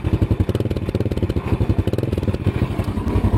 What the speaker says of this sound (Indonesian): Suara mesin dan suara knalpotnya halus banget.